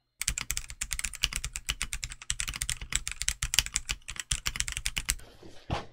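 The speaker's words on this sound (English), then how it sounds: "it really points to the keycaps being the culprit of that more tinny, plasticky, cheap sound" Fast, continuous clacking of typing on a Redragon K673 Ucal PRO 75% mechanical keyboard with plastic keycaps, dense rapid keystrokes close up and alone, ending in a few final taps.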